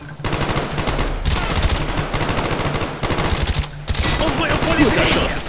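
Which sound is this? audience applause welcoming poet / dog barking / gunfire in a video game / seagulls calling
gunfire in a video game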